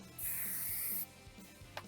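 Aqua Net hairspray sprayed close onto hair during styling: one loud, near, continuous hissing burst lasting under a second, then quiet rustling.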